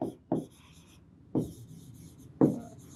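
Chalk or marker strokes on a lecture board, four distinct scratchy bursts at uneven intervals, close and clear with no talking.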